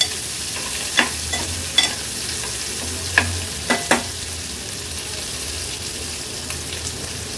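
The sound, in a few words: chopped onion frying on low flame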